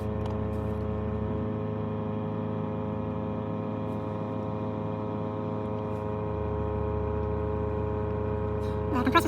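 The air compressor of an UpDownAir four-tire inflation system with a four-hose InDeflate unit runs with a steady, even motor hum that holds at constant loudness throughout, with a faint rattle near the end.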